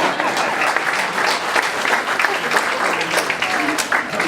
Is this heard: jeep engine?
no